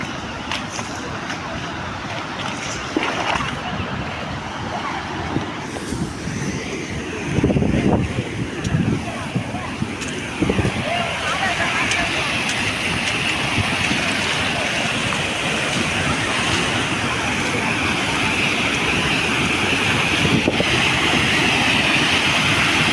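Loud, continuous rushing of cyclone floodwater fills the scene, a steady roar with occasional gusts and a voice speaking in Tamil over it.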